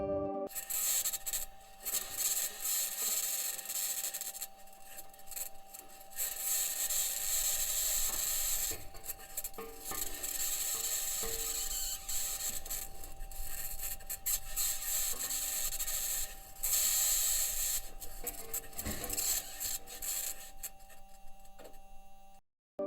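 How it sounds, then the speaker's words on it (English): Continuous grinding and scraping of the Perseverance Mars rover's wheels rolling over rocky ground in Jezero crater, with a steady high-pitched whine and raspy crunching throughout, fairly faint. "we can listen the sound of the rover's wheels moving over the Jezero crater on Mars."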